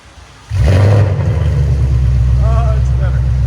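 A 2021 Ford Mustang GT 5.0L V8 with Valvetronic exhaust valves open starts from a quiet idle, then roars into a loud, close rev that settles into a deep, rumbling high idle, and a voice briefly speaks over it.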